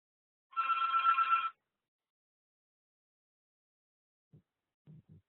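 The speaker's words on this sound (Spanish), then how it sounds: "es que si no iba a estar sonando el teléfono" A telephone rings in one steady, fairly loud burst of about a second, then stops; a few faint low thumps follow, and nobody speaks.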